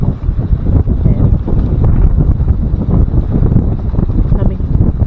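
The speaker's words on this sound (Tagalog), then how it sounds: "Lamig, lakas ng hangin." Strong cold wind buffets the microphone outdoors near a garden plot with bananas, making a loud continuous roaring rumble with gusty fluctuations throughout.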